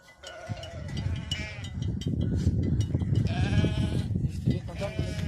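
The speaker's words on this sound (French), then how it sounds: "Un mouton." A large flock of sheep in the Haute-Savoie mountains above Morzine bleats repeatedly, several overlapping calls near and far over a busy background of shuffling animals.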